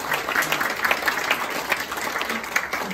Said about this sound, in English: I think it's time maybe to give you a round of applause